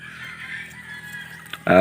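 A breeding chicken clucks in low, quiet bursts for a moment before a loud, bright call bursts in near the end, close and sudden.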